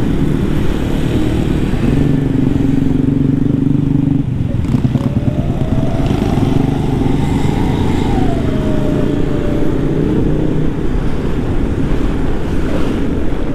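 Motorcycle traffic heard from a Honda Vario 160 scooter touring on a busy road toward Malangbong, with steady engine drone buried under heavy wind buffeting on the microphone and a passing engine rising then fading midway.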